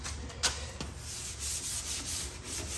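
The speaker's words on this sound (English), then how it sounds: "I do a lot of my Bondo work with these sanding blocks" Steady hand sanding of Bondo body filler with a sanding block, a gritty back-and-forth rubbing in even strokes, close by and fairly quiet, with a couple of sharper scrapes.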